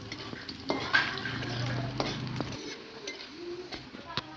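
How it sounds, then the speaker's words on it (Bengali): Chopped onions with panch phoron fry in a pan, a soft sizzle broken by several spatula scrapes and clinks against the pan, close but fairly quiet, with a brief low hum in the background. "দিয়ে দিচ্ছি পরিমাণ মতন পেঁয়াজ কুচি, দিয়ে দিচ্ছি আমরা 5 ফোড়ন।"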